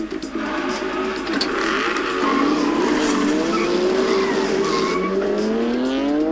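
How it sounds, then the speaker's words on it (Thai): Race cars battle for position on a track, their engines roaring loudly and continuously with rising and falling pitch as they overtake, and tires squealing close by. "ตอนนี้เวเร่งแซงเบียดวินเนอร์มาได้สำเร็จแล้วครับ"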